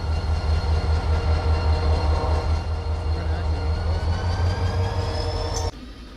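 A BNSF freight train in the Run 8 train simulator rumbles loudly and continuously with a low engine drone, its tones slowly rising before the sound drops abruptly near the end.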